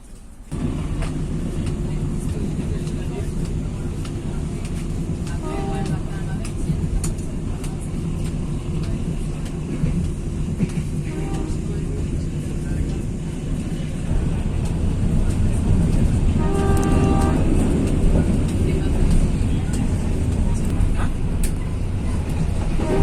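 The KA Logawa train pulls away from Wonokromo station with a steady, loud rumble of wheels and engine throughout, swelling slightly toward the end.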